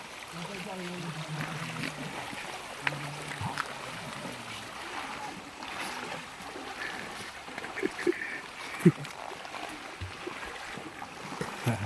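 Soft, steady rush of a flowing river with gentle splashes, continuous and moderately distant, with a few faint knocks and bumps.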